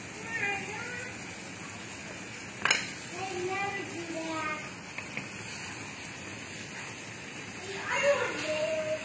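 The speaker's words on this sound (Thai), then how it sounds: "ผัดถั่วให้สุกสักหน่อย" Long beans and sliced onion stir-fried in a pan sizzle steadily, with scraping and clatter from stirring under a voice.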